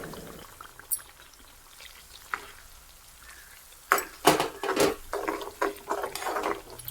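Turmeric and carrot simmering in coconut oil for a homemade skin oil, with a faint steady bubbling hiss and a run of louder clinks and scrapes from stirring near the end.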